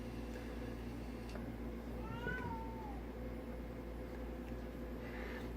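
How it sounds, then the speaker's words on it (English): A pet cat gives a single faint, drawn-out meow partway through, set against a steady low hum and background noise in a room where new pets are being unpacked. "Excuse my cat."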